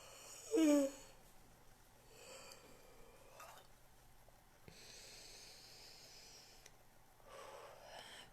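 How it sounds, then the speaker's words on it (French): Slow, deep breaths taken during a calm sophrology relaxation exercise: a sharp inhale is followed by quieter, drawn-out breaths and exhales, soft and close, with no talking. "Puis je vais prendre le temps de faire 3 grandes respirations."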